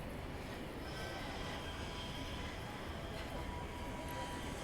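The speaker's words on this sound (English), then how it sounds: "I thought that sounded like a tram" A tram rolls past on a hot day in Blackpool town centre, a steady broadband rumble of wheels on rail that stays continuous and fairly close throughout, with no talk over it.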